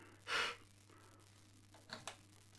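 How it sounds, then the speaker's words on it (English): Sharp intake of breath through the sides of a trombone mouthpiece held at the lips, one strong airy inhale followed later by two fainter short breaths, close and quiet, no talking. "If you keep it there and you just breathe through the sides"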